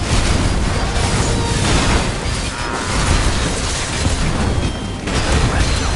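Heavy mortar bombardment during a battle in Final Fantasy XVI, a continuous loud roar of booms and crashing blasts filling the whole stretch with no clear separate hits and no talking.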